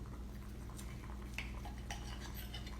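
A knife and fork cutting into tender baked chicken on a plate, making light scattered clinks and scrapes of cutlery, quiet and close.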